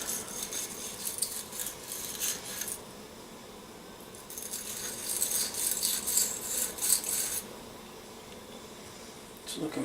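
Brass wire brush scrubbing a 1957 Evinrude 3 horsepower outboard carburetor after aerosol spray, giving bursts of bright scratchy rasping in short strokes, close up, with quiet pauses between.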